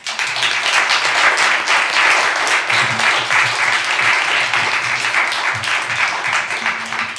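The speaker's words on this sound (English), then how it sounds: "Audience, let's give them a round of applause." Sustained applause from a town meeting audience for local election candidates, steady dense clapping for about seven seconds at moderate loudness, with a low murmur of voices underneath.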